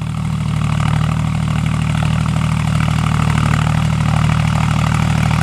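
John Deere tractor with a 53 HP three-cylinder 3029 diesel engine, working a field with a plow: a loud, steady low engine drone that runs continuously and close by, with no speech.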